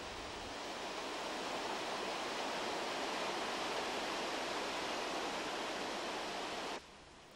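Broad, loud roar of the Bramabio stream gushing out of an opening in a cliff, a dense continuous rush of whitewater that holds steady and then drops in level abruptly near the end.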